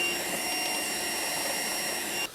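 A Trifo Maxwell 2500Pa budget robot vacuum cleaner runs with a steady, loud, close whirring hum that holds evenly throughout and drops off abruptly at the very end.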